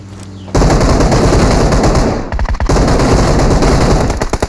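Rapid automatic gunfire in the mobile battle-royale game PUBG Mobile, loud and close, with dense bursts running almost continuously and a brief gap midway.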